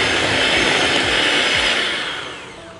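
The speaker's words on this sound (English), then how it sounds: "Now I'm going to mix this up and hope for the best." An electric mixer whirs loudly and continuously through homemade pumpkin pie filling spiced with nutmeg and salt, the motor tone steady before tapering slightly at the end.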